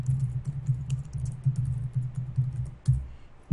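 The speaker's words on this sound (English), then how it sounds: "I'm going to manually type the recipient's email address." An email address is typed on a computer keyboard, a steady patter of soft, close key clicks with a heavier tap or two near the end and no voices.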